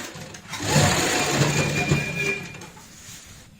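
A sewing machine stitches bed sheet fabric in a short, close burst of whirring that swells and then tapers off over a few seconds.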